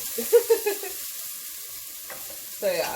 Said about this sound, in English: Go ahead and stir for a second. Just going to sweat them out a little bit.